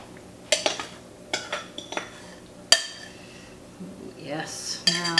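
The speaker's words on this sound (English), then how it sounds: "And now I'll put in my filling." Apple pie filling of apples, flour, brown and white sugar and cinnamon spooned into a pie shell: several sharp metallic clinks and scrapes of a spoon against a dish, close and clear, with brief soft sounds between them.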